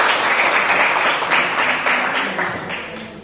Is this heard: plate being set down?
no